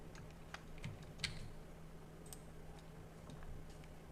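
Sparse computer keyboard key presses and clicks, a few light taps spread unevenly over a faint steady hum, quiet and close.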